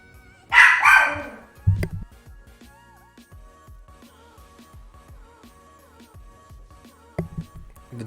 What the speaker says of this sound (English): The dogs were distracting me.